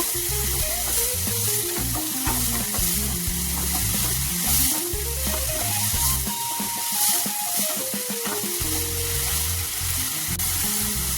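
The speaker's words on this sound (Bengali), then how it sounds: "সবগুলো মশলাকে একবার ভালো করে কষিয়ে নেব।" Spices and tomato paste are sautéed in a pan for a spicy elephant foot yam and prawn curry, giving a steady sizzle with stirring. Music plays clearly underneath throughout, and no one talks.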